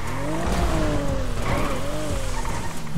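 A car in the video game GTA RP accelerates hard, its engine revving steadily upward in loud, continuous sweeps with some tire noise mixed in, close and without speech.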